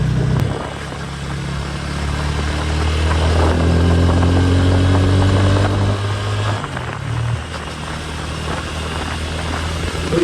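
A 2024 Loncin GP 165R sport motorcycle runs underway with a steady, loud engine drone whose pitch rises through the gears, then drops briefly at a shift before settling, wind noise filling the background.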